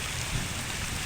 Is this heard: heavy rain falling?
yes